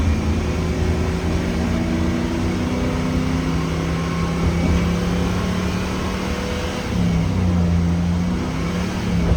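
A stunt scooter engine drones steadily at close range, holding a buzzing tone, then dips briefly and comes back at a shifted pitch, as if changing gear.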